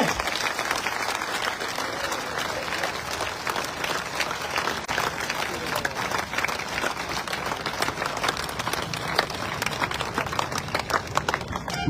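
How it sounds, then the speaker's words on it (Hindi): A large crowd at a patriotic talk honouring Maharana Pratap gives sustained, thunderous applause, a dense continuous roar of clapping that holds steady for the whole stretch. "एक तालियों का घनत्व बढ़ा दीजिए"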